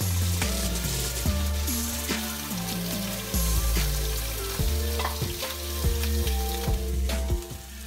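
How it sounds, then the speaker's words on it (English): Andouille sausage hits a hot pan and sizzles loudly and steadily, with crackling spatter and the clatter of stirring throughout, no talking. "Let's throw in the sausage. Watch out for the spill. You can start to hear it sizzle right away."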